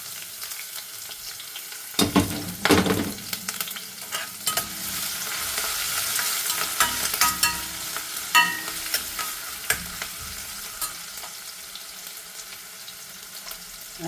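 Garlic and green chili fry in very hot oil, a steady close sizzle running throughout, with sharp spoon scrapes and clatters against the pan early on and scattered stirring knocks after.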